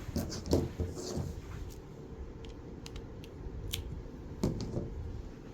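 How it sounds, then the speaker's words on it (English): Scissors snip yarn string at a knitting machine, giving several faint, quick crisp clicks spread irregularly over a few seconds against quiet background rustle. "we're going to close it up and then we'll cut our string"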